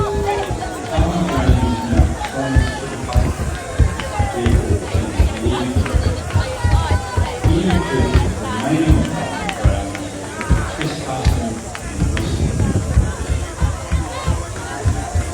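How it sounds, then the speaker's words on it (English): A large protest crowd at the Parliament occupation claps and cheers, a continuous dense roar of hands and voices that swamps a message blasting over loudspeakers. "The crowd is clapping and cheering and drowning out what Trevor Mallard is putting out over the loudspeakers again."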